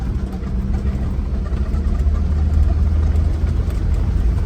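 A van's engine running steadily while driving in fifth gear on an African road trip through Nigeria, a loud continuous low drone with road rumble and no talk.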